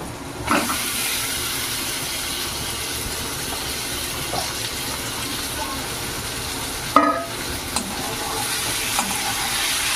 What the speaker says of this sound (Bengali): এবার মাছগুলোকে খুব ভালো করে তেলে ভেজে নেব।